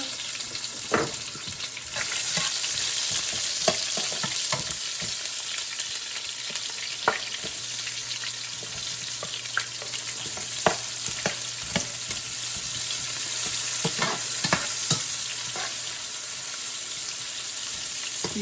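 Onions frying in a pan at the start of a Congolese mushroom sauce, a dense continuous sizzle with intermittent utensil scrapes and taps throughout, close and steady, without talk.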